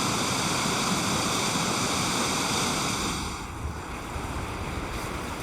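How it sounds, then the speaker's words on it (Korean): Nevada Fall pours heavy water down a sheer rock face in winter, a steady, dense roar of rushing torrent that holds loud and unbroken throughout, easing slightly near the end. "깎아지른 바위산을 뒤흔들며 흙과 하나가 되어 쏟아지는 폭포의 숨소리가 거칠다."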